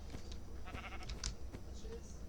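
Sheep bleating in a video game sheep room, short overlapping bleats at low level over a steady busy background, with no clear talk.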